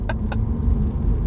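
A Stage 2 tuned Mk5 Golf GTI pulls hard from inside the cabin, a steady low engine drone heard up close with a couple of short higher chirps near the start.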